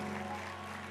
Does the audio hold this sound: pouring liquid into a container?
no